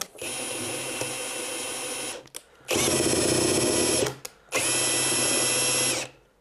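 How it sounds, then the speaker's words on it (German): A cordless drill driver whines up close as it cranks a homemade router table height lift, in three sustained bursts of high-pitched motor run separated by short pauses. "Machen wir es nochmal mit dem Akkuschrauber."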